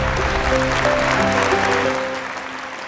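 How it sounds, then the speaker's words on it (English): Audience applause at the 2022 S!NERGY International event for IAYSP President Koji Matsuda's congratulatory address: steady, dense clapping over faint tonal background sound, easing slightly in the final second. "Please let us give a big round of applause once again to President of IAYSP, Mr. Koji Matsuda, for his congratulatory address"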